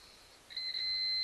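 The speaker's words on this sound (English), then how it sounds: "See, it beeps again." A multimeter set to continuity gives a steady high-pitched electronic beep while testing the wiring of a MotorGuide 54 lb 12-volt trolling motor, the tone holding clear and level for about a second after a faint start, with no voices.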